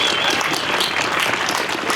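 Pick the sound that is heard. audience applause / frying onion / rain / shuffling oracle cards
audience applause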